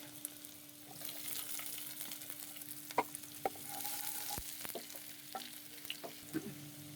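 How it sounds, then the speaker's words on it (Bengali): Chopped onions frying in oil with cardamom and cinnamon for a shrimp bhuna, a quiet steady sizzle with occasional clicks and scrapes of a spatula stirring, close, over a faint constant hum. "এখন আবার তেলের মধ্যে ভালো করে নেড়ে নিব।"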